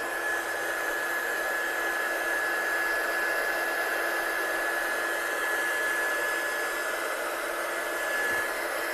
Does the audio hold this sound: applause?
no